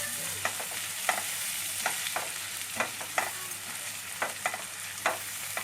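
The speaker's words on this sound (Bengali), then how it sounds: "মশলাটা খুব ভালোভাবে কষিয়ে নিতে হবে।" A spoon scrapes rhythmically through a spice paste with coriander powder sautéing in a pan for a water lily and shrimp dish, each stroke a crisp scrape about every half second over a steady low sizzle.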